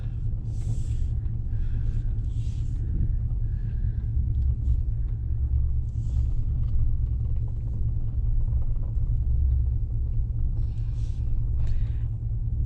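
A truck in four-wheel drive on a snowy rural mountain road near Cloudcroft, New Mexico, fitted with BF Goodrich KO all-terrain tires, giving a steady low engine and road rumble from inside the cab, with faint higher rustles now and then.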